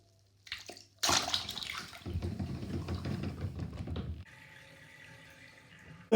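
Water splashes and churns in a cartoon bathtub, a loud burst followed by a few seconds of rough sloshing that settles into a softer, steady running-water hiss.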